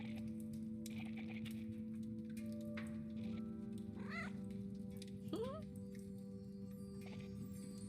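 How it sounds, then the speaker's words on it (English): A cat meows twice in the video game Mayak over a dense, steady electronic background hum, with soft talk mixed in; the meows rise and bend in pitch. "Cutest little kitty."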